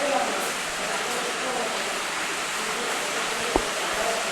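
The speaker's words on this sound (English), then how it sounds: "The water is flowing throughout" Water flows steadily inside a dark cave, a dense continuous rushing wash with no breaks, echoing close around, with a single faint knock near the end.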